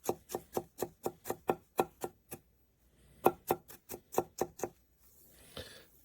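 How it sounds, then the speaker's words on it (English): Rapid knife chopping with a Kanngou Damascus steel gyuto, a 21 cm Japanese chef's knife, on a cutting board: a quick run of close, sharp taps, a short pause, then a second burst, ending in a soft scrape. "It's hard to cut with the camera on my chest"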